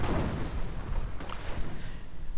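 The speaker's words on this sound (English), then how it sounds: "Mortar rounds and everything else landing amongst the Volksgrenadiers." Mortar rounds landing in the video game Company of Heroes, a cluster of heavy booming impacts and blasts rolling together at the start and again midway, fairly loud with no talk.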